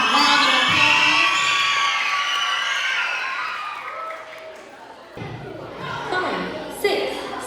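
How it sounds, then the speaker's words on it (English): Elementary school children at Purche Ave Elementary cheer, shout and clap for a visiting author, a loud dense crowd roar that slowly fades, then livelier shouting and voices pick up again near the end. "Give her a round of applause"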